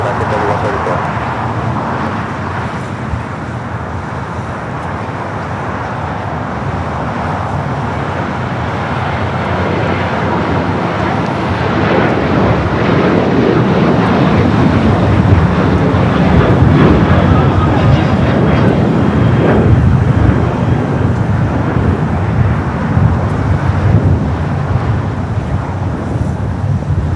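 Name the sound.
airliner taking off at Los Angeles LAX airport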